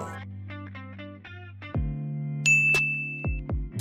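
A notification bell sound effect plays bright synthetic dings, with a sustained high ring midway and a couple of sharp struck tones toward the end, loud and alone.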